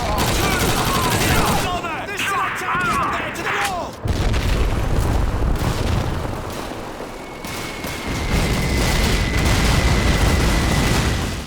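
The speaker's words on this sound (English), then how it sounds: "And also you get to call the artilleries." An artillery barrage in Call of Duty 2 sets off dense rolling explosions and bursts of gunfire in a sustained loud wartime din, with a voice shouting over the chaos partway through.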